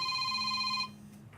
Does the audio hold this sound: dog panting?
no